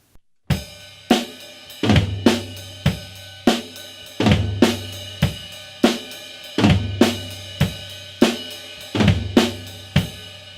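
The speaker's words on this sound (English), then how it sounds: "Now let's play the groove on the ride cymbal and put the fat flam on the toms." Drum kit groove played on the ride cymbal with fat flams struck on the toms, close and loud, a steady pulse of sharp hits with deeper tom accents recurring throughout, no voices.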